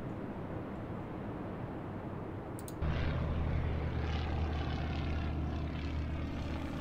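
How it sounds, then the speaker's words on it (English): Propeller warplanes taking off in the naval strategy game Atlantic Fleet, a steady droning engine roar that swells suddenly and holds loud and continuous, with no talk over it. "let's get these planes in the air"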